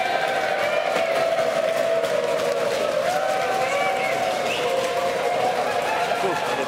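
Wedding guests at an underwater wedding cheer and applaud loudly and continuously, a dense crowd roar with sustained whooping voices that holds steady throughout.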